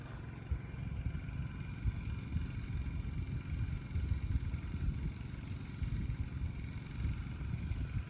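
Wen 3800 or Genmax 3500 inverter generator idling, a low steady engine rumble with a faint constant high whine, heard alone at moderate distance without change in speed.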